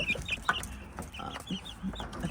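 Young chicks and chickens cluck and peep in short repeated calls, near but fairly quiet, over low barn ambience.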